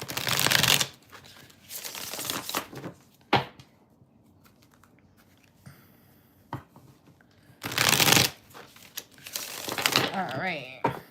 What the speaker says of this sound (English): Let me just do a little shuffle waffle.